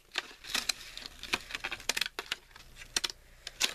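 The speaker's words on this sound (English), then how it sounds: "I'm just going to keep cutting swirl by swirl." Scissors snip through paper in quick, uneven bursts of close, crisp cuts as a heart-shaped spiral is cut out swirl by swirl.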